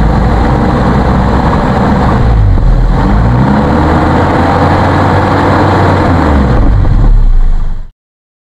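A 1998 Toyota Kijang LGX engine runs smoothly, a loud, close, steady low rumble whose pitch rises and falls with several revs before cutting off abruptly.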